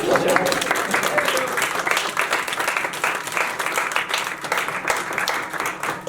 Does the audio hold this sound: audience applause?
yes